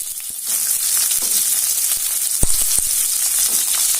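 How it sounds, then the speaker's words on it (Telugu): Sliced onion and tempering spices crackling in hot oil for a cluster bean curry, a loud continuous sizzle close up with a few sharp clicks and pops, no voices. "ఆయిల్ వేడెక్కింది పోపు దినుసులు వేసుకుంటున్నాను ఉల్లిపాయ వేసుకుంటున్నాను"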